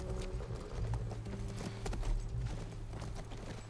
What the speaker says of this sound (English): Look, by the ranch. That's our horse.